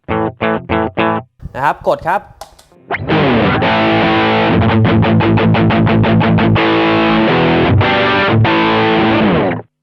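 An electric guitar plays through a Shark Rock You Drive high-gain distortion pedal. Someone speaks briefly first, then loud, saturated chords ring out in a rapid, rhythmic chugging pattern that lasts several seconds.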